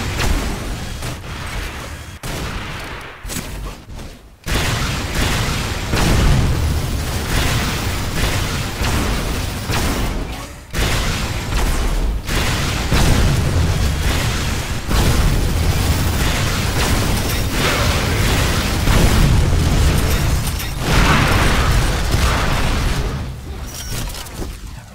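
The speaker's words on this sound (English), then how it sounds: "Shock rifle." Shock rifle combo explosions from Unreal Tournament 4 boom repeatedly over a dense, loud barrage of blasts and energy shots, nearly continuous with brief gaps, no talking.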